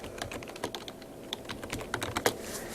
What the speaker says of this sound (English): when I start typing my next book